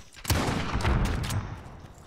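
Gunfire in Call of Duty Modern Warfare: a quick burst of several shots with a sharp initial crack, fairly faint and somewhat distant, blending into a rumbling game ambience.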